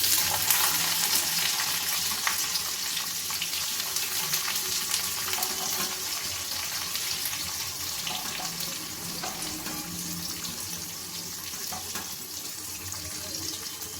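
Chopped onion and tomato fry in a pan with dried red chilli and black cumin, a steady broadband sizzle running unbroken and fairly loud throughout, with faint scraping stirs and no talking.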